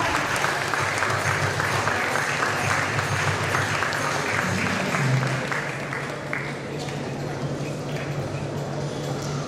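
A hall full of people applauds a third-place prize winner at a Marathi parents' convention prize ceremony, the clapping loud, dense and steady for the full length, with a faint low hum beneath.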